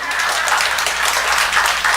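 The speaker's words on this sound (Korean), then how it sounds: "박수 한번 치시죠" A church congregation claps during a Korean sermon, with quick overlapping hand claps in a brief, fairly loud burst that holds steady across the moment and has no voices on top.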